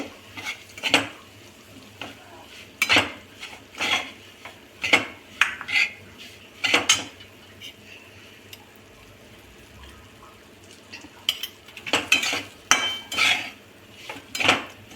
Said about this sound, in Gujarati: કકરા લોટને શેકી દઈશું ઘઉંનો ઘી નાખીશું